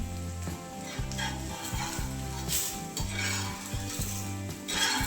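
A mung dal dhirde pancake roasts on a pan with a steady soft sizzle, while a spatula scrapes and flips it in a few brief clatters. Low tonal background music runs underneath.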